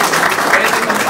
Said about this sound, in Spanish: Así que un aplauso para el presidente.